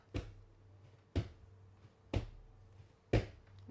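A Year 3 class in a music lesson clapping along to a rhythm: four crisp, evenly spaced claps about a second apart, close and clear against near silence.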